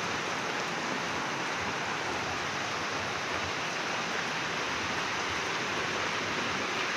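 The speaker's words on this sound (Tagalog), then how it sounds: "mas lumakas pa po yung ulan" Heavy rain pours steadily, a dense, continuous hiss of water drumming on surfaces with no breaks, close and loud throughout.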